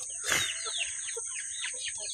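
Black Australorp chickens cluck and chirp in a busy run of short calls, with a steady high hum behind them and one louder burst near the start.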